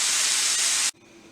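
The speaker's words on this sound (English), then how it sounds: "So I'm working on the stir fry now." Stir-fry vegetables and onions sizzle in a pan with a loud, bright, steady hiss close by, then it suddenly drops to a much quieter sizzle, with no voices.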